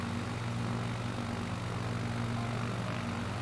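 A propeller aircraft engine in Microsoft Flight Simulator 2020 drones steadily at cruise. The hum is moderate in level, with no speech and no change in pitch.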